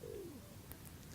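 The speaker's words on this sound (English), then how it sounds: "I love the sound of the pigeons' speech, their voice. They're cooing." Pigeons cooing by a lagoon, a single soft, low descending coo, faint and close, followed by quiet background.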